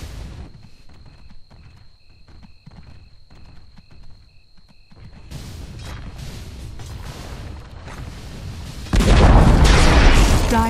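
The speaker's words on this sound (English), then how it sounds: "Dire's bottom tower has fallen." A Dota 2 tower collapsing during a professional ESL One 2015 match: a heavy burst of crashing, crumbling impacts that builds from quieter game sounds and then surges loudly for the last couple of seconds.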